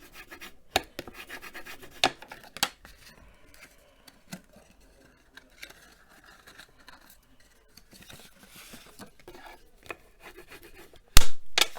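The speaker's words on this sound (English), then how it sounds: "Let's just burnish that down." Paper craft piece being burnished down by hand, heard as soft intermittent rubbing and scraping strokes with a few sharper taps and a louder burst at the end, close up with no talk.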